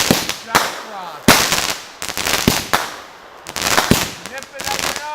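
Fireworks and firecrackers go off close by during a May long weekend celebration. Several sharp, loud bangs and crackles come in uneven bursts, with people talking and calling out between them.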